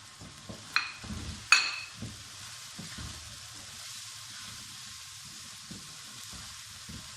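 Cumin seeds and black pepper sizzle as they drop into a hot pan, with two sharp clinking taps near the start and a steady soft hiss of frying throughout, close and fairly quiet, no talking.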